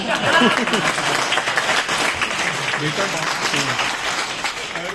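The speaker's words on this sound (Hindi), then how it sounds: "और ताली तो इस बात पे बजा देना" Audience applause at a Hindi comedy performance, a dense, steady wash of clapping that holds strong throughout, with a voice faintly audible underneath.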